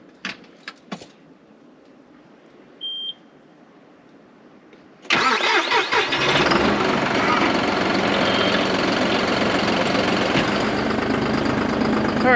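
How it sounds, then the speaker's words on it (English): Keys jingle and click quietly in a John Deere 5075E tractor in the snow, then the diesel engine cranks and catches with a loud roar and settles into a steady, rumbling idle. "we're going to fire up the old John Deere here"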